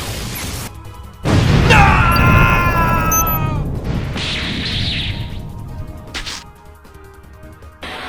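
Ajimaji Magician's magic attack in a Yu-Gi-Oh cartoon duel bursts in with a loud crash and rush, sweeping shimmering tones over a rumbling blast, then a softer whooshing tail and a final brief swell.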